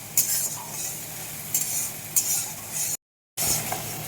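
Spice paste for an egg and potato curry being stir-fried in a pan, with a close sizzle and repeated scraping strokes of a spatula, broken by a brief silent gap.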